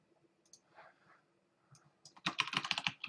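Someone types on a computer keyboard nearby, with a few scattered key taps and faint clicks at first, then a quick, dense run of louder keystrokes at the end.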